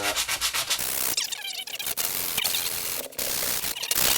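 Steady back-and-forth sanding of a hand plane iron's back on 120-grit abrasive on a sticky-back platform, worked in circular motions; a continuous close rasping rub with brief pauses.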